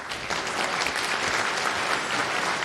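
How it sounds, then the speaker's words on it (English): Audience applause for a speaker at a Go programming conference talk, a dense, even wash of many hands clapping throughout, fairly close and sustained. "Okay, so next up we have Julien, so a round of applause for him."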